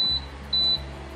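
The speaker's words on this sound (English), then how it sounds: "Here's the timer." Kitchen timer in a Khon Kaen kitchen where pork steaks are being seared in a wok, giving two high electronic beeps over low steady room hum.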